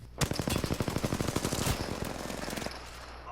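Rapid automatic gunfire from the video game Apex Legends rattles in a long, dense burst, loud and continuous for a few seconds before cutting off abruptly.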